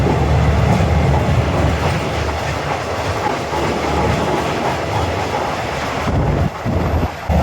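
A train rolls past the old train yard in Bangkok with a steady rumble and clickety-clack, joined by wind buffeting the microphone. It is loud and close throughout, with no talk.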